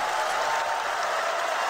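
Arena crowd at a PGL Krakow CS:GO Major match between Fnatic and Gambit, a dense, steady wash of applause and cheering that fills the whole moment.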